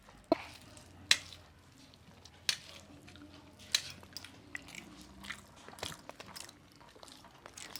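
People eat cooked taro leaves, making quiet close chewing and a few sharp crunchy bites that recur irregularly, with soft mouth sounds between them and no clear speech.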